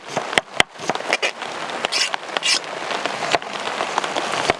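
Rain falling steadily during outdoor cooking of a whole giant fish curry, a close patter of drops on surfaces with sharp splashy ticks scattered through.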